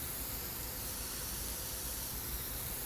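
Dirt terrain being sprayed along the side of a building in The Sims 4, a steady, even hiss of noise held at constant loudness throughout with no talk.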